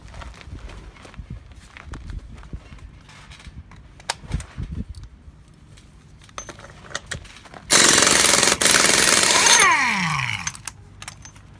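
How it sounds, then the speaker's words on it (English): An impact wrench hammers loose the hub nut on a 1999-2007 Chevrolet Silverado during a CV axle job, one loud two-second rattling burst after scattered clicks and handling noises, then winding down. "just take off this hub nut right here. And I'm using an impact."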